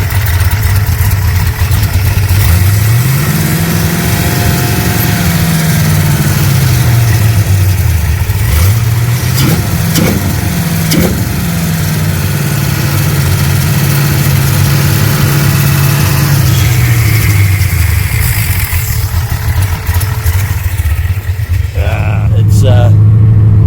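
A Holden HZ with an LS V8 swap revs hard on its first drive, the engine pitch sweeping up and down through loud, rising and falling surges close to the car, with voices talking underneath.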